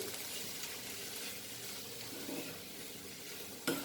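Dry chana masala being stirred in a hot pan, giving a steady soft sizzle with scraping stir sounds throughout and a sharper clatter near the end, close up and without speech.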